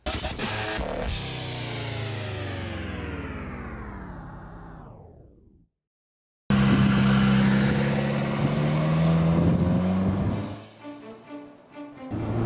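A 2012 Chrysler 300 engine is held at torque and then released for a launch, revving and rising in pitch before a brief gap, then roaring loudly under hard acceleration with wind noise before fading.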